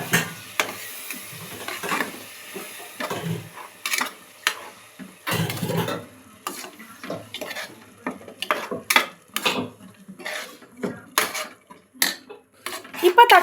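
Ground tomato being sautéed in a pan while it is stirred, heard as repeated clattering and scraping of a utensil against the pan over a faint sizzle, with brief voices in the background.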